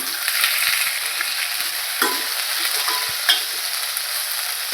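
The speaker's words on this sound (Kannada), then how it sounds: "ಇದನ್ನು ಒಂದು 5 ಮಿನಿಟ್ಸ್ ಫ್ರೈ ಮಾಡ್ಕೊಳ್ಳೋಣ." Capsicum stir-fried in a pan for soya manchurian: a continuous close sizzle with a few soft scraping strokes from the spatula, and no voices.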